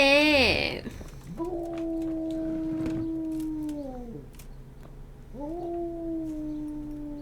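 A dog howls in the video game Kingdom Come Deliverance, drawn-out wavering howls that rise and hold steadily, two long cries separated by a pause, with a short sharp yelp at the start.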